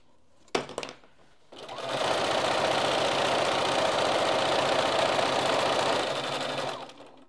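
A sewing machine stitches fabric in a steady, loud run of about four seconds, preceded by a brief click and a short whir as it starts, then spins down at the end.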